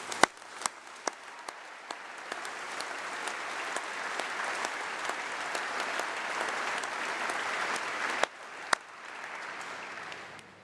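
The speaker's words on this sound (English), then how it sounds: "So another round of applause" Graduates and guests at a University of Birmingham congregation ceremony applaud in a hall, a steady wash of clapping with a few sharp individual claps standing out near the start and end.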